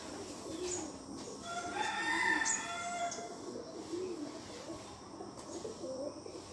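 Pigeons coo before being fed in the morning, soft repeated cooing with other bird calls over a quiet background, fairly faint and steady.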